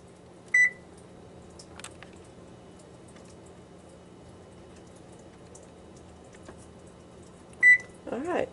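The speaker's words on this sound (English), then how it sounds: "Alright, 425, hit start, and put this pan into our oven and leave it to preheat." An oven control panel gives two short high electronic beeps several seconds apart while being set to 425 degrees and started, each one clear and close against a quiet room with faint rustling.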